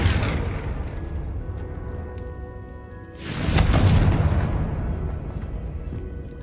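A Confringo spell in Hogwarts Legacy goes off as a loud, booming fiery explosion midway through, then rolls and crackles on for several seconds over steady background game ambience.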